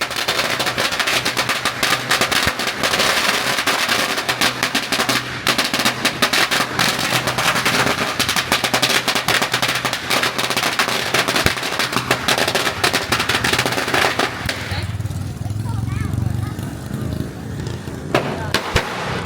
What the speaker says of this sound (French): c'est quand même un sacré rouleau de pétard